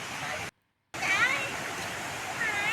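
The Muak Lek waterfall in Saraburi rushes as a steady, faint broadband wash, cut by a brief gap of silence near the start.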